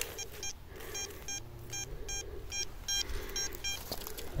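A Deus or Nokta metal detector beeping on a signal while digging outdoors, a rapid series of about ten evenly spaced, bright electronic beeps, close and clear over low background rumble.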